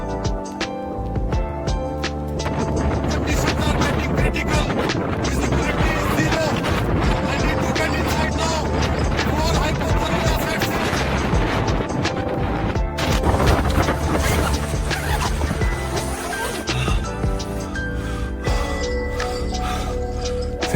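Blizzard wind roaring around a tent during heavy snowstorm winter camping at -15°C: loud, dense, unbroken gusting and flapping with buffeting, constant for the whole stretch and up close.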